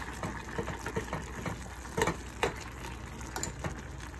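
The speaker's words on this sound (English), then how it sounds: "I just leave it boiling on the high flame." Rice boils in a pot of water over a high flame, a soft, continuous bubbling and gurgling with scattered pops and a couple of slightly louder splashes, fairly quiet and without talk.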